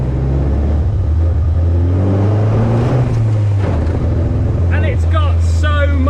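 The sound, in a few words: tuned Austin 7 Cambridge Special car driving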